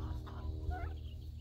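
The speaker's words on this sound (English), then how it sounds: "They are bronze turkeys." Bronze turkey hens gobble and cluck softly against a low steady background rumble, a brief close call in a short stretch of farmyard sound.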